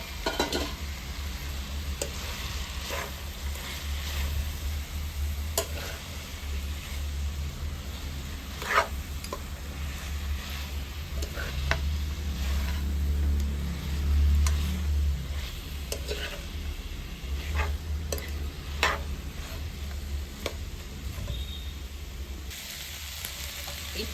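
Chicken pieces sizzle in a pan with softened, sautéed tomatoes for a pumpkin country-chicken masala curry, stirred steadily with a utensil that scrapes and clicks now and then over a constant low frying hiss, with no talking.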